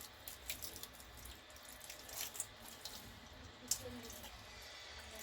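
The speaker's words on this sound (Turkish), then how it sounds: "Şöyle elimizle yıkayalım." Watercress is rinsed by hand under a running tap, a faint trickle of water with small splashes and wet handling sounds.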